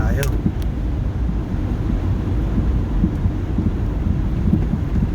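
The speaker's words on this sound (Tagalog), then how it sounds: "lumakas na yung ulan" Heavy rain with wind roars without a break outside a vehicle, a thick low rumble and buffeting wind noise, and a voice talks faintly under it.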